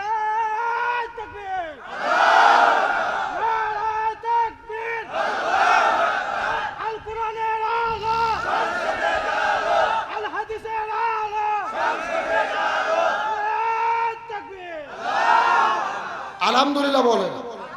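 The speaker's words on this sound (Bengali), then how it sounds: "ভালো করে এখন তাকবীর দেন তো দেখি" A large crowd at a religious rally in Bangladesh shouts takbir in repeated loud chanted bursts, each swelling and fading, roughly six calls in a row with brief gaps, a leader's voice prompting between them.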